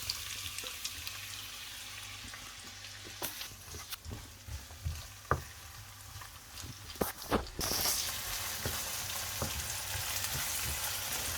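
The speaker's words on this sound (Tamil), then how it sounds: "எண்ணெய் கொதிச்சிட்டது அப்போ முதலாவது வெங்காயம் மிளகாய் போட்டு வதக்க வேணும்" Onion and chili hit hot oil in a pan for a prawn gravy and fry with a steady close sizzle. Scattered clicks and stirring knocks come through the middle, then a brief louder hiss, and the frying continues evenly.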